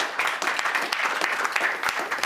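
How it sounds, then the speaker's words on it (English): Conference audience at the GLOBSEC 2020 Bratislava Forum applauding, a dense, steady wash of many hands clapping close and loud for the full length, with no voices over it. "Big round of applause to all of you."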